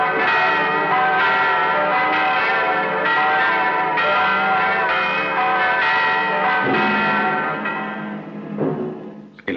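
A church bell rings loudly in steady repeated strokes, each ringing tone sustaining into the next, in an old adventure film set in Borgia-era Italy; the ringing fades near the end.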